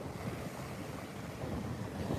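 Ocean waves roll onto a beach at Pacifica, California, a steady broadband wash of surf mixed with wind buffeting the microphone, continuous and fairly loud with no voices.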